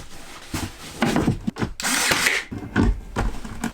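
A power drill drives screws into wood for cabinets and uppers in a Sprinter 4x4 170-inch extended van conversion, in loud close bursts of whirring that rise and stop several times, with no talking.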